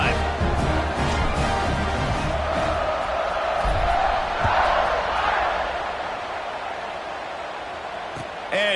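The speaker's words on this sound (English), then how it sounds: "this crowd is feeling themselves after that last drive" Football stadium crowd roaring and cheering after a touchdown drive during a Notre Dame vs USC game, a dense, sustained wash of distant voices that swells briefly and then settles.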